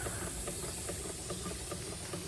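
A Boiler House Doll 387/3 model steam engine runs slowly on low gas, giving a steady soft hiss with faint, regular chuffing beats, quiet and close.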